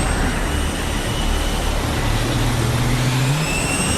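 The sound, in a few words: fighter jet engine on carrier deck in played video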